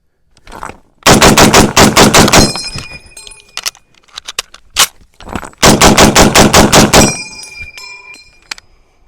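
An M1 Garand rifle fires outdoors in two loud, close volleys of rapid shots, each burst ringing out before a pause, with a few single cracks in between.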